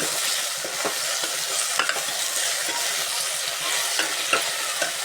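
Chopped tomatoes sizzling in a hot pan of fried ingredients for a village-style curry, with steady frying hiss and scattered stirring scrapes and taps, no talking.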